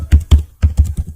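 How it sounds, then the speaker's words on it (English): Close, crisp keystrokes on a computer keyboard: five or six quick taps in an uneven rhythm over about a second. "You can easily check these by typing here"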